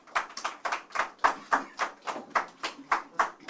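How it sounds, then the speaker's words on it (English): A small group claps in a brisk, fairly even rhythm, moderately close, with no voices over it, at an election press briefing in Ghana. "Another round of applause for him."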